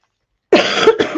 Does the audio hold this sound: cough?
yes